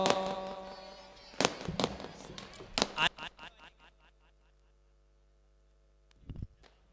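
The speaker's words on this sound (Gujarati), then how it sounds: "ફટાકડા બંધ કરી દે. હવે ફટાકડા બંધ કરી દે." Firecrackers burst at a religious birthday celebration in Junagadh: a voice over a loudspeaker is cut by several sharp, loud cracks around the middle, a scattered volley after them, and one more bang near the end.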